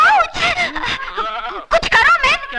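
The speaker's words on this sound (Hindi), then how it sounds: "बकरी।" A goat bleats loudly and close in a comedy film scene, a wavering, nasal cry that rises and falls in several pulses, with a short pause before more bleating.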